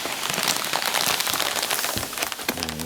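An MRE flameless heater activates inside its pouch, hissing and fizzing with a dense crackle like steam escaping, fairly close and continuous, then a brief low tone near the end.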